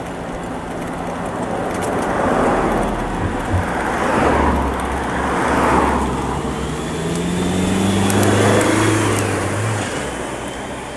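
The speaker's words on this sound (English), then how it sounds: "I've got a big lorry behind me." A large lorry drives close behind an electric bike climbing a hill road, its engine rumbling steadily and swelling as it approaches, with low road and wind noise and no talking.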